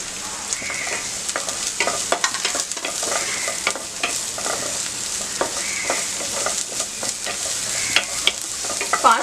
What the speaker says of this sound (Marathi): फास्ट गॅसवरच आपल्याला हे सगळं सॉटे करायचं आहे.